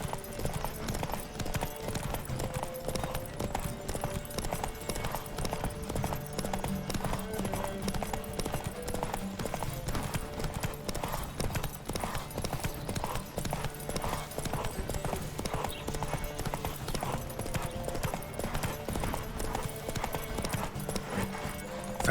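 Galloping horse hooves pound in a steady, rapid clip-clop rhythm during a horse race in The Witcher 3, loud and close throughout with game music underneath and no talk.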